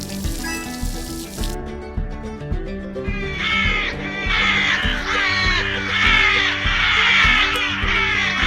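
Crows caw repeatedly in harsh, overlapping calls that grow louder and denser after the opening seconds, set over a steady background of farm-game music.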